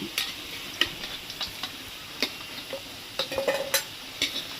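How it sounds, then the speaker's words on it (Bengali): Potatoes for Kashmiri aloo dum, fried until deep red, crackle softly in oil while a utensil clinks and scrapes against the pan at scattered moments, close by and without speech. "আলুটা পুরো লাল করে ভেজে নিয়েছি এবার আমি এগুলোকে তুলে নেব"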